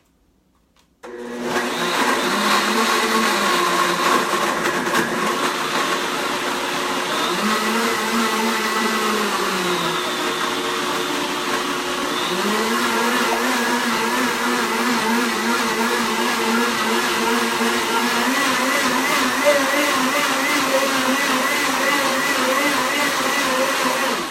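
A blender motor kicks on abruptly and whirs steadily at high speed, loud and close, its pitch dipping and rising slightly several times as it runs.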